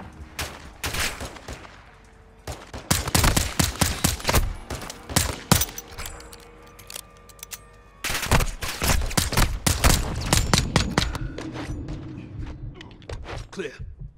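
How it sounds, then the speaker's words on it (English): Call of Duty Modern Warfare 2 gunfire at a dock: loud, close bursts of rapid shots and sharp cracks in repeated clusters with a few thuds between them, and voices calling out during the firing. "Taking fire on the dock."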